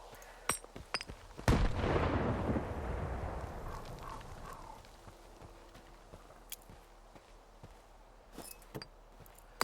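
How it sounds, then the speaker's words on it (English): A grenade blast in the video game Stalker 2 bursts loud and broad, then rumbles and fades over several seconds, followed by scattered faint clicks and distant pops. "the explosion sounds really good anyway"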